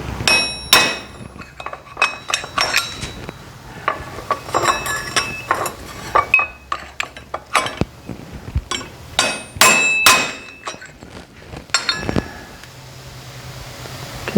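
A hammer taps a punch to drive the front wheel bearing out of a Yamaha Raptor hub. Sharp metallic strikes ring close up in uneven bursts, with short pauses between groups of blows and no voices.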